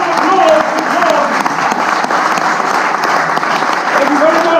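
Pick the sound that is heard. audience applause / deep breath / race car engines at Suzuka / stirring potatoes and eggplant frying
audience applause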